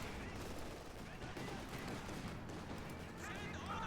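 Dense battle gunfire from the video game Company of Heroes 2 makes a continuous clatter of shots and blasts at an even, fairly faint level with no clear pauses.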